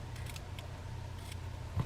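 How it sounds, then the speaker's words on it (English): Ribbon scissors cutting paper for card making, a few faint, quick snips close by over quiet room tone, ending with a sharper, louder clip and thump. "I'm going to use my ribbon scissors here just to cut this part off."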